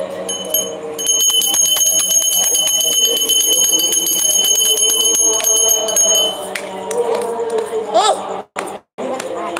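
Temple-style bells ring continuously during a Karwa Chauth celebration, a steady bright clanging sustained for several seconds amid crowd chatter and chanting voices, then stopping as the singing continues.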